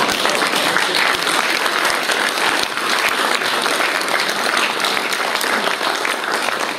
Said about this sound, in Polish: Brawa dla pana.